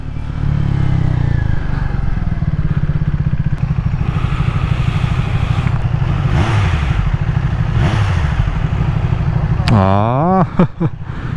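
A Triumph Speed 400 motorcycle with its stock exhaust rides through city streets, holding a loud, steady engine drone with a rev rise near the end, and wind and traffic noise around it.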